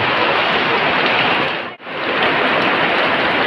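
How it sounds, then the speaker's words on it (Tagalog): Heavy rain during a storm at sea pours down as a dense, steady hiss that fills the clip, broken by one very brief dropout midway, with no voices. "Umulan."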